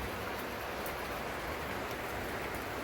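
Heavy storm rain pours steadily onto a flimsy shelter roof on a bay in Tobago, a dense, even hiss that stays loud and unbroken throughout with no voices.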